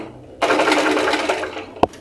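A sewing machine runs in one continuous burst of about a second and a half, stitching three layers of an insulated lunch bag together, then stops with a brief sharp clack.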